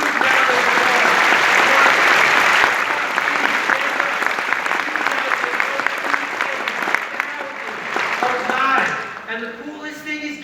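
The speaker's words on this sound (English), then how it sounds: "A big round of applause for Chris. A huge round of applause." A large audience at a Wobi Medellín business talk applauds Chris in loud, sustained clapping that thins out toward the end, with a voice speaking over it as the applause fades.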